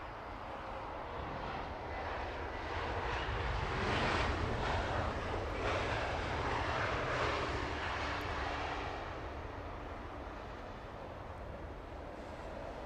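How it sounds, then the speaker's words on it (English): British Airways Airbus A380 inbound to Heathrow runway 27 right, a broad distant jet roar that swells to a peak midway and then slowly fades, heard alone with no talking. "Last of today's show is British Airways A380 inbound from San Francisco."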